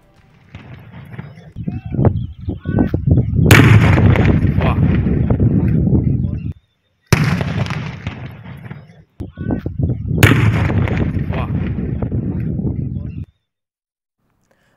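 Police bomb squad detonating suitcase, bucket and bag bombs, with several loud booming blasts that each rumble and fade into long crackling tails, separated by brief silences.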